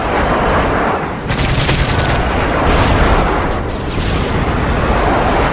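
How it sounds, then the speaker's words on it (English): A friendly airstrike in Modern Warfare 3 pounds down as a rolling barrage of heavy blasts and crackling gunfire, loud and continuous for several seconds. "Friendly airstrike on the way."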